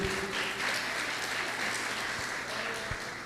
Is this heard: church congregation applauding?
yes